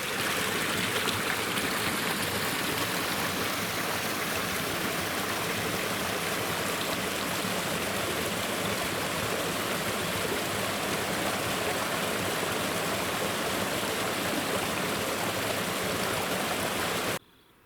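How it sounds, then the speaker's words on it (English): A small creek flows nearby with a steady, full rush of water that runs continuously before cutting off suddenly. "There's another little creek."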